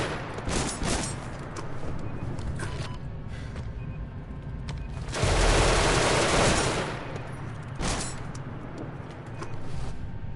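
Sustained turret gunfire from the Genesis Alpha One space game, a dense fusillade of rapid shots running through the clip with a louder burst near the middle, and no talk.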